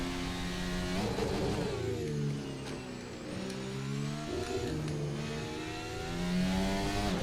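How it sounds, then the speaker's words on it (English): An F1 car in the F1 25 video game at the British Grand Prix accelerates out of a chicane, its engine revving up through rising gear pulls and shifting between them, loud and close, with no talking. "Good acceleration out of the chicane"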